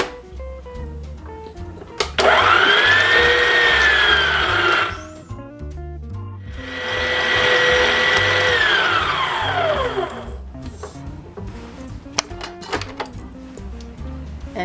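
Electric kitchen mixer working butter, sugar and marzipan for a Danish almond cake at low speed, whirring loudly in two long runs with a brief pause between, followed by clinks and knocks of the bowl.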